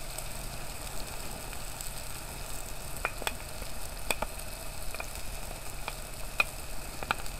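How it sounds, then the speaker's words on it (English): Mushrooms, garlic and fennel sizzle steadily in a hot pan, a continuous close frying hiss with occasional sharper pops and crackles throughout, no voices. "the mushrooms look yummy, so I'm going to go ahead and add the garlic and the fennel"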